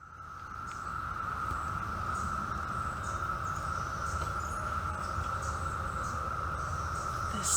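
Cicadas drone outdoors in a loud, continuous, steady buzzing chorus that holds unbroken throughout, with faint background noise around it.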